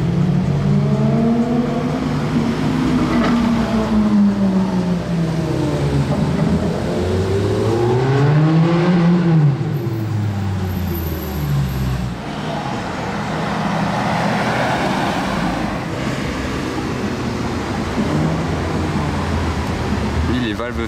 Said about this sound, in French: Oh, les deux Ferrari, elles ont un échappement.